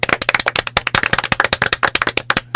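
Applause after a presidential election result is confirmed in the early morning hours, a small group clapping rapidly and loudly at close range in a dense, steady burst.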